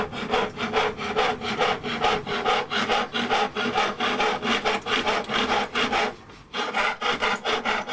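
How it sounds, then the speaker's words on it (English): Fine saw cutting plastic-coated silver sheet at a silversmith's bench, rapid rhythmic rasping strokes, close and even, with a brief pause near the end before the strokes resume. "away you go with a very fine saw, cut it all out, keep it nice and flat"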